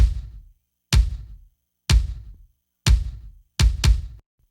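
A punchy kick drum sample for recreating an 80s rock sound, struck five times alone at a steady pace, each hit a hard thump with a short decaying tail, the last two closer together.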